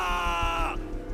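An anime character, Nanami, lets out a sustained strained yell that holds steady for most of a second and then cuts off, fairly loud over faint background sound.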